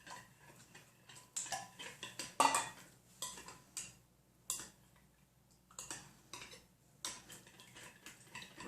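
A spoon stirs sweet and sour sauce made with ketchup in a bowl, producing rhythmic close clinks and scrapes against the bowl, with quiet gaps between strokes.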